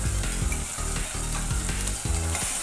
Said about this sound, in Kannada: ಟೊಮೊಟೊ ಹಸಿ ವಾಸನೆ ಹೋಗೋವರೆಗೂ ಒಂದು 2 ನಿಮಿಷ ಫ್ರೈ ಮಾಡ್ಕೋಬೇಕು